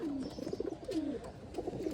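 A pigeon coos softly and steadily, several low rolling coos repeating close by against a quiet background.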